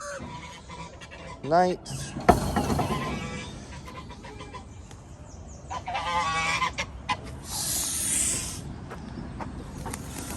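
Geese honk and hiss close by on a barnyard homestead with chickens, in several loud, rising calls and bursts scattered over the stretch, while a person talks in between.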